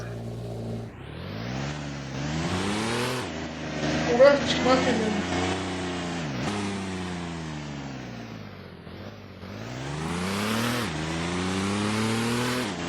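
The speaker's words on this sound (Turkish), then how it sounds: "Biraz duysunlar egzoz." Car exhaust in the Roblox game Driving Empire revs repeatedly, rising and falling in loud surging sweeps with short gear-change dips, while a person talks over it.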